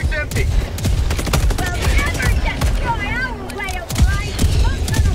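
Autocannon fire in the video game Helldivers 2, a steady stream of heavy repeated shots mixed with other battle noise, loud and close, with voices talking.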